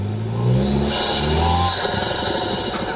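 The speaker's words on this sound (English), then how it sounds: "You get the blow-off valve, you get the turbo spool." A Toyota 4Runner Trail Hunter with a raised air intake revs its engine nearby, the turbo spooling up into a rising whine before a hissing blow-off release, over a few seconds.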